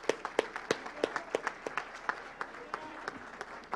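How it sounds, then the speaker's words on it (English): Audience applause after a talk at an awards event, with distinct sharp individual claps in a fairly sparse rhythm at first, thinning and fading toward the end, fairly quiet and close. "Let's give Steve a round of applause for that great talk."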